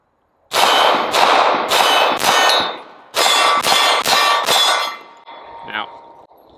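A Star Model BM all-steel 9mm single-stack surplus Spanish pistol fires eight sharp, loud shots in two quick groups of four, with a short pause between and a faint metallic ring afterward.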